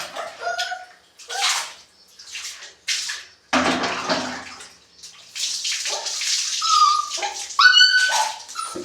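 A Tibetan Mastiff puppy whimpers and whines in short, high, wavering cries during its first bath, with splashing and running water bursts between the cries, all heard up close.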